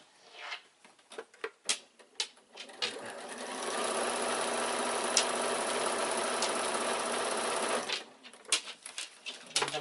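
Close, loud sewing machine stitching a quilted evening bag runs steadily for about four seconds, set between short bursts of tapping and clicking handling noises.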